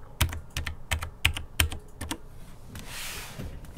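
Function keys on a Logitech G613 wireless mechanical keyboard clack in a quick, uneven run of about a dozen sharp, close keystrokes, then give way to a brief hiss.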